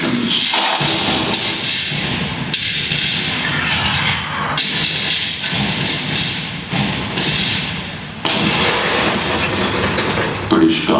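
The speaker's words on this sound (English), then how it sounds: "Washington opens fire on British positions." Cannon fire in a historical battle scene of American guns bombarding British positions at night, heard as loud, dense booming thuds and rumbling that barely let up throughout.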